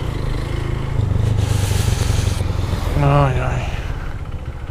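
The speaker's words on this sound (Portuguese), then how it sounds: "quando para de acelerar o barulho que faz" A 150cc motorcycle engine runs with a strange noise as the throttle is let off, giving a rough, rattling engine drone close to the microphone, with a brief exclamation from a voice over it.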